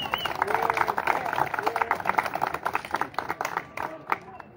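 An audience applauds a school director with dense, steady clapping from a crowd that fades toward the end, with faint voices underneath.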